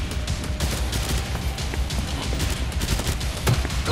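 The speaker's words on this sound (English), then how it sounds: "This grenade pistol's actually like a shotgun" A grenade pistol fires exploding pellets in Killing Floor 2, a dense, loud stream of rapid cracking blasts and pops crowding together like a fusillade, continuous from start to end.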